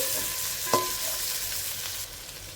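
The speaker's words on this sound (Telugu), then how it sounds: "చిక్కుడుకాయ ముక్కలు వేగిపోయాయి" Pieces of broad beans fry in a pan for a village-style dish, giving a steady faint sizzle with a brief stirring clatter near the start and no voices.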